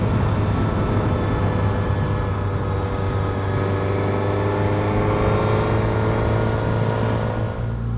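A Suzuki GSX-S1000 motorcycle engine running in third gear at low speed, a steady droning hum with a strong low rumble, close and constant throughout, no talking.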